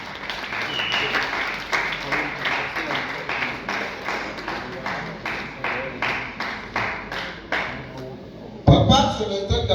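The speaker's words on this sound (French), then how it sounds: "je peux vous demander encore d'applaudir très très fort pour notre collègue Célestin Kakese" An audience at a mortuary wake for the late comedian-actor Célestin Kakese claps steadily in sustained, even applause with rhythmic pulses, ending in a louder burst of nearby sound and voices.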